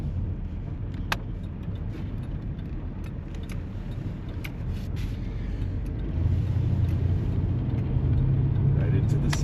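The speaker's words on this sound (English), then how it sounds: "this van sound like it's just gonna fall apart, but I know a lot of it is the curtain rods are rattly" A van rolls over a rough road with a steady low rumble, while loose curtain rods inside give off scattered light rattles and ticks that grow heavier toward the end.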